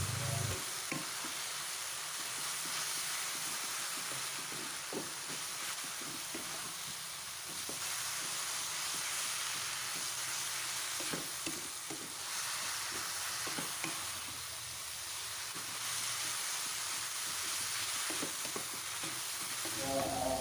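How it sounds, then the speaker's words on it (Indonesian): Water spinach is stir-fried in a wok with a tablespoon of oyster sauce. A soft, constant sizzle runs throughout, broken by repeated scraping and tossing of the spatula as everything is mixed evenly. "aku tambahkan saus tiram sebanyak 1 sendok makan. Kemudian diaduk kembali hingga semuanya rata"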